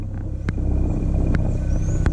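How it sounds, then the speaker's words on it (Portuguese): A Ford Fiesta 1.0 turbo engine idles smoothly at about 920 RPM, a steady low, even rumble close by, with a few brief ticks or clicks over the hum. "Olha aí, pessoal, a marcha lenta do carro."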